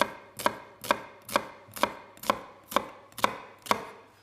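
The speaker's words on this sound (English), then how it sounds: "you use the tip of the knife and you pull back like that. And you don't cut all the way through the onion" A knife chops an onion finely with the blade tip drawn back through it, nine crisp, evenly spaced strikes on a cutting board, close and clear with no talking.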